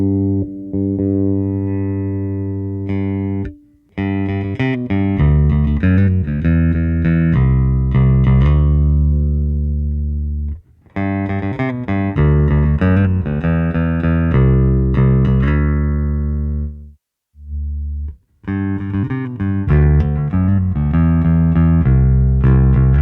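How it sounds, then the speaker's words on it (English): A Yamaha bass guitar with stock strings plays a melodic line on the bridge pickup and then the neck pickup, with loud, sustained low notes in phrases broken by brief pauses and no talking. "But let's have some more sounds from this with the stock strings on. I'll do both together, bridge, then neck."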